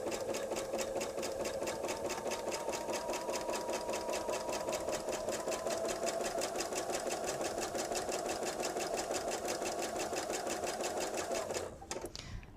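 A sewing machine runs steadily, stitching two fabric pieces for a blue and yellow table runner, with a fast, even needle rhythm and motor whir close by that continues for about twelve seconds before stopping abruptly.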